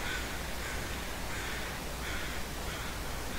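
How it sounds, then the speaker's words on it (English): Crows cawing in the survival game The Long Dark, several harsh caws repeating at a moderate distance over a steady wind-like hiss, with no other voices. "Still got crows."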